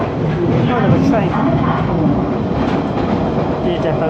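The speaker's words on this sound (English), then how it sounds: "We're starting on a train." Steady rumble and rattle from riding aboard a London Underground Central line train, a loud continuous roar with faint rhythmic clatter, with a voice speaking over it.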